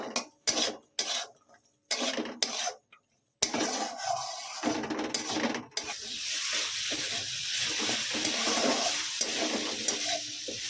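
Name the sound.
peas frying and being stirred in a pan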